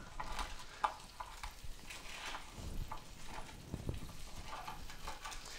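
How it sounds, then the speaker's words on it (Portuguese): Metal utensil scraping browned chicken residue and stuck skin off the bottom of a roasting dish while making chicken stock, a steady run of close rasping, stirring strokes with no talking. "E aí a gente vai começar a raspar a nossa travessa para retirar toda essa borra que está aqui no fundo."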